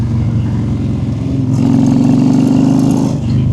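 A Honda Sabre 1300 V-twin factory chopper motorcycle revs and pulls hard under acceleration, with a loud, close, continuous engine roar that rises in pitch partway through and then eases off.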